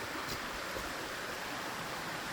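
A creek in a state park flows with a steady, broad rushing hiss, constant and unbroken, moderately close and without voices.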